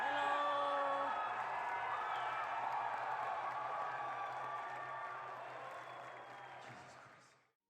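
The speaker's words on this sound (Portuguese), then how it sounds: "uma multidão começou a gritar" Crowd at a live event cheering, whooping and yelling as Resident Evil 2 is announced, a loud sustained roar that gradually fades over several seconds.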